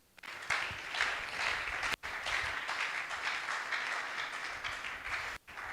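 A church congregation bursts into loud, sustained applause that swells and continues for several seconds, briefly cutting out twice.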